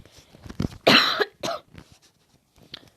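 Close, dry coughing from a man, a couple of harsh bursts after soft breathing, followed by a faint throat sound, with no talk.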